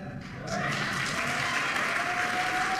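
Audience applauding inside a church, a dense rush of clapping that swells in after a brief quieter moment and holds steady, with a faint voice underneath.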